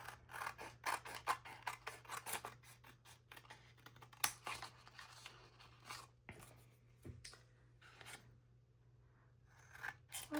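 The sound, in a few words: scissors cutting brown paper mailer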